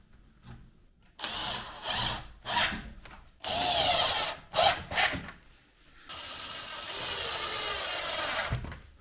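Power drill driving screws into a wooden frame while fitting polycarbonate panels in an old house, several close whirring bursts of varying length separated by short pauses, ending in one longer sustained run.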